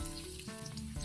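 Brief, faint sizzle of garlic and ginger sautéing in hot cooking oil for a fish dish, a steady crackling hiss heard alone.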